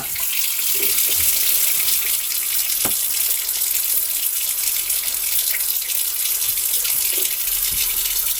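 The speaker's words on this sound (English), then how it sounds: "The good news is it's draining again. It's draining properly." Water runs steadily from a tap into a household sink and drains freely after a clog is cleared, a constant close rushing wash with a few small knocks and splashes throughout.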